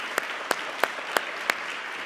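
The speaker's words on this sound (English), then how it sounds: "round of applause to Erica and her team on the CIS for helping out and putting this thing together" Scattered applause from a symposium audience, with five sharp, evenly spaced claps standing out above a soft background of hands, fairly quiet.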